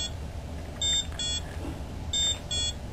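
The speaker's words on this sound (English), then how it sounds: "each time you press the pressure button, the priming station will preview each of its 8 different ringtones" Electronic beeps from a Bio-Rad Experion priming station previewing ringtones, four short bright tones in two pairs over a quiet hum.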